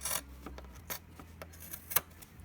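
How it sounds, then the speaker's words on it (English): Scissors cutting through quilt fabric pieces, giving a few soft, close snips and rasps spread over a couple of seconds with one sharper cut near the end, quiet and alone. "now I can cut these pieces off"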